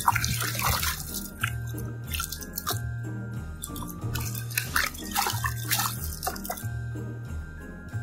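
Toy black bear being washed in water, with close dripping, splashing and wet squishing over a rhythmic looping music bed.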